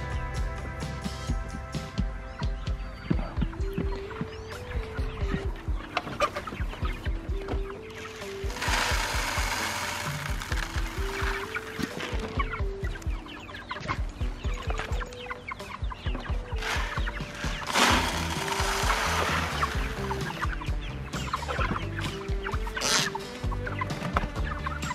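Hens cluck and chatter continuously, with repeated squawking calls rising over a busy, close-up coop murmur.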